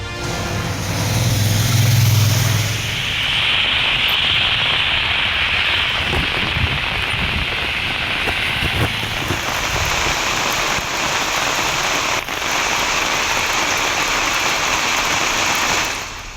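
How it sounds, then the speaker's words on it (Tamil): Heavy rain falling in the afternoon in the Salem, Erode and Nilgiris districts, a steady dense hiss of drops pouring on surfaces, loud and continuous throughout with no voices. "சேலம், ஈரோடு, நீலகிரி மாவட்டங்களில் மதிய வேளையில் பலத்த மழை."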